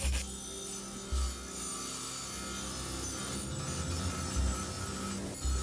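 Close, steady rasping of a file scraping back and forth across a cast bronze blade, with a few soft knocks.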